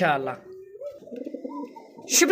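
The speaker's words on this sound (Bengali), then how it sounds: "ডাকতেছে নরকবুতর" A male pigeon gives a soft, low, rolling coo up close, set between brief stretches of a person talking at the start and end.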